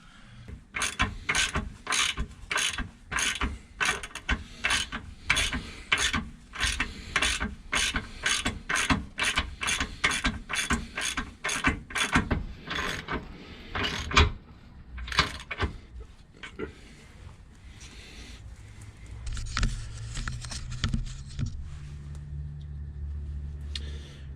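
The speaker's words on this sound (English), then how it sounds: "I'm just gonna put this wheel on and crank up the torsion bars." A ratchet wrench cranks up the torsion bars on a van with a rapid, regular series of sharp clicks, close and clear. The clicks stop after about fifteen seconds, and clunks and shuffling handling noises follow.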